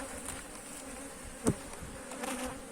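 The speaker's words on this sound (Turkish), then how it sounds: "Yani bu çerçeve tamamen arıyla kaplıydı." Honeybees buzz around an open frame lifted from a strong beehive, a faint, steady close-range hum with one brief louder pass of a bee near the ear midway through.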